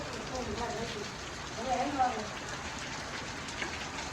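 Faint, steady rain patters in a soft continuous hiss, with low voices murmuring in the background.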